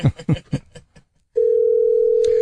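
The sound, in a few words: telephone ringing, waiting for answer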